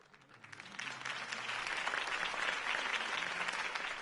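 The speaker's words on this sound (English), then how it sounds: "If only Mr. Wayne, my campaign's largest backer, could have heard that applause" A crowd bursts into steady applause, swelling quickly and holding at a full, dense level of clapping and cheering.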